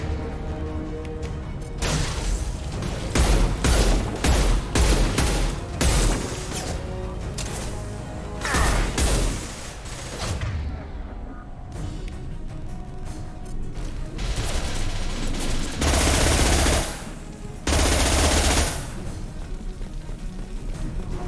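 Gunfire in the game Mass Effect Legendary Edition during a Shadow Broker firefight, with repeated loud bursts of shots and impacts alternating with short lulls across the clip.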